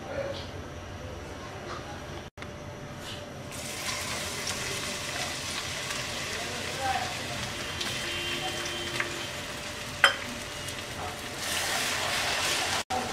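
Crushed garlic dropped into hot mustard oil in a wok sizzles with a steady, close, even frying hiss that stays at the same level throughout, with a brief clatter near the end.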